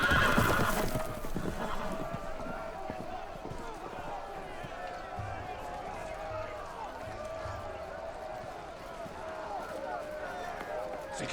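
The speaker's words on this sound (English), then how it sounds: "The horses! They're loose!" Horses whinny loudly and gallop off in Telltale's Game of Thrones video game, an opening neigh followed by rapid hoofbeats and clatter under a continuous rumble of action sound effects.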